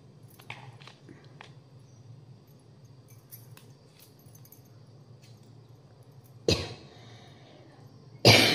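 A person with a cold gives a few small coughs early on, then two loud harsh coughs near the end, close to the microphone in a quiet room.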